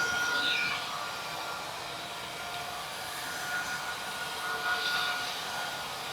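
Numatic NaceCare 244 NX battery floor scrubber running steadily indoors, a continuous mid-level whirring hum of brush motor and vacuum with faint scraping, no voices.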